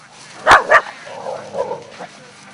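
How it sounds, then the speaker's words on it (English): Dogs at a techno party give two quick loud barks up close, followed by softer yips and whimpering noises that trail off. "Techno parties most often seem to have a lot of dogs running around, playing and having fun."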